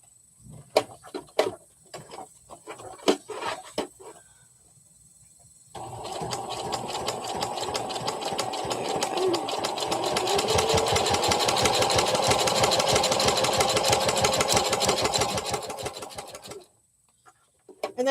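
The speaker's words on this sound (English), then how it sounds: "I'm just hand cranking the wheel so that we can get it turned." A sewing machine turned slowly by its hand wheel while stitching tight corners on a Choly Knight chameleon project: a few separate knocks first, then a steady mechanical whir for about ten seconds before it stops.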